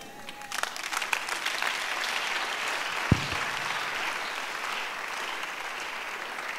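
Church congregation clapping during a sermon, a dense wash of many hands that swells quickly and holds steady, with one sharp thump partway through.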